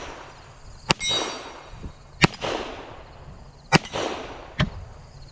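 Four sharp handgun shots of 147 grain self-defense ammunition at a range, evenly spaced about a second and a half apart, each loud crack followed by a brief ringing decay.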